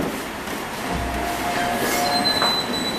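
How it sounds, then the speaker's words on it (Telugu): A train rolls past close by with a continuous heavy rumble, its wheels giving off thin metallic squeals that rise and fade over the passing cars. "రైలు."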